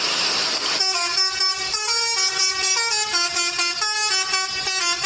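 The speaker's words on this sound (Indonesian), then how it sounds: "ternyata ada bus telolet." A toy telolet bus horn plays a loud, bright, repeating multi-note melody of stepped horn tones. It follows a short burst of noise and continues close and steady throughout.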